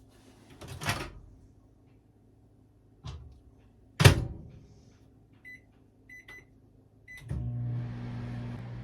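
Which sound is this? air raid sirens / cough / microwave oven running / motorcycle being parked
microwave oven running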